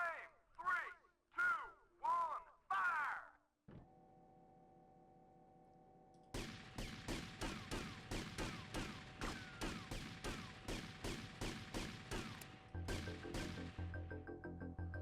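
Rapid repeated gunfire in GTA, a run of sharp evenly spaced shots that continues steadily for several seconds, preceded by a few short bursts and a low mechanical hum, with no talk over it.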